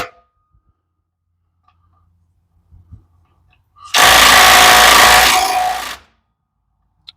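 An impact gun hammers for about two seconds on the drive shaft bolts of a 1995 Camaro Z28, a loud, close, continuous buzzing rattle after a few faint clinks, then silence.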